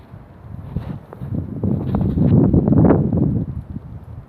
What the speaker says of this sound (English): Well, it's windy tonight.